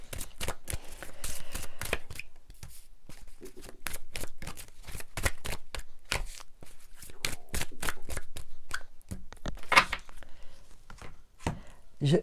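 Tarot cards are shuffled and drawn in a dense run of crisp, rapid riffling clicks and snaps close by, with short pauses and no talking.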